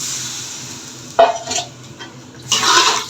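Broth poured into a pan of pabda fish curry cooking with stems, a sizzling splash of liquid hitting the hot pan in two short bursts over a quiet kitchen background.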